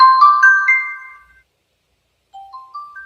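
Phone alarm ringing with a bright, chiming tone pattern, a loud burst of repeated notes that stops, then resumes after a short silence with a new rising phrase.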